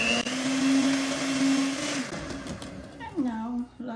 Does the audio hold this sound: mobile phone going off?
no